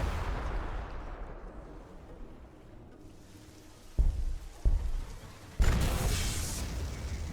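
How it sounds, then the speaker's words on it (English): A missile launch in Warhammer 40000 Gladius comes as three sharp, heavy booms in quick succession over a low rumbling game ambience, the last one sustaining into a roaring blast. "You can launch your missile too."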